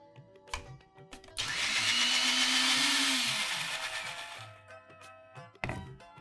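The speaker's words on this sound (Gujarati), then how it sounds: "પલાળેલી અડધો કપ દાળ લઈએ છીએ અને એકદમ ક્રશ કરવામાં ઇઝી પડે એટલું જરાક જ પાણી નાખવાનું છે" Blender motor whirs loudly for several seconds, grinding soaked moong dal with a little water into a thick paste, its pitch rising then easing before it stops, with brief clatter before and after.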